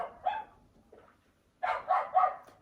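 Dogs bark in a dog park outside a window: a short pair of barks, a faint yelp, then a louder cluster of three or four barks, all moderately distant with no talk.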